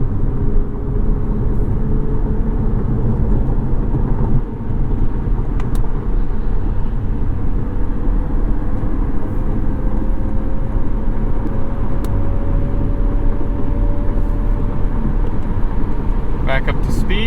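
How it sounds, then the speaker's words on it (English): A 2020 Chevrolet Corvette with its V8 running on all eight cylinders cruises in 8th gear at 73 mph on cruise control, giving a steady low engine drone and road roar heard from inside the cabin. "We are off again, 8th gear, chugging along on all 8 cylinders."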